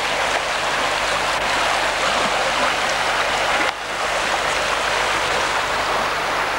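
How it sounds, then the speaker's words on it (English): Fast-flowing river water rushing around a bend in a park, a steady, loud broadband roar that fills the whole stretch without a break. "Very fast part of the river,"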